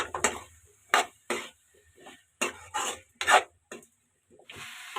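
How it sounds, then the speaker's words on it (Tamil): A spatula scrapes and stirs vegetables with tomato and onion in a pan for prawn kulambu, giving close, loud, irregular scraping strokes with short pauses between them and a faint sizzle underneath. "நல்லா பிரட்டி விடுங்க."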